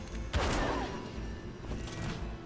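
A headshot attack in the video game Battle Chasers: Nightwar lands as a sharp, gunshot-like burst with a decaying rumbling tail, followed by a softer hit near the end. The whole exchange is fairly quiet.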